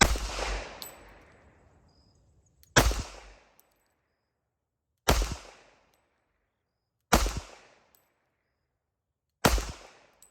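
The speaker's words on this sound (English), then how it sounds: "we're going to shoot it 5 rounds, 20 seconds" Five sharp gunshots ring out at a shooting range during a timed string, spaced roughly two seconds apart, each a loud crack followed by a short decaying echo, with no talking.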